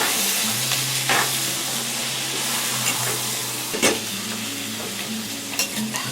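Onions sizzle steadily in hot oil with ginger and garlic, a close, continuous frying crackle with occasional stirring scrapes, under soft background music.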